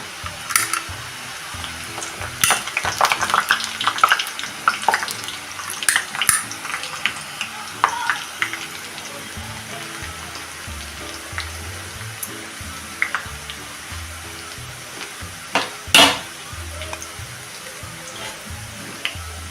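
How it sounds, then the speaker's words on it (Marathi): Sev dough pressed straight into hot oil over a medium gas flame for a crisp Diwali snack, sizzling and bubbling steadily up close, with scattered clinks and scrapes from the press and pan throughout. "आता ह्यात ही आपण डायरेक्ट शेव पाडून घेऊया"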